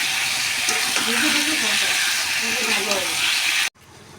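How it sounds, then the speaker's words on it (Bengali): Pre-fried potatoes and chicken for a curry sizzle together in a hot pan, a steady close hiss with scraping stirs and a voice talking over it, cutting off abruptly near the end. "আলু আর চিকেন একসাথে ভালো করে কষাবো।"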